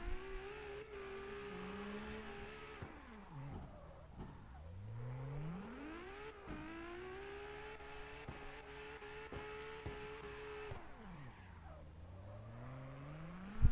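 A car in CarX Drift Racing revs through a long drift and 360 spin, the engine note rising and falling with gear shifts and steady tire scrub, heard alone at moderate volume.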